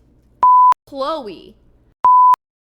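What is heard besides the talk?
censor beeps in the video game Midnight Witch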